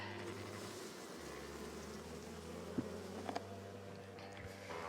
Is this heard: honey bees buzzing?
yes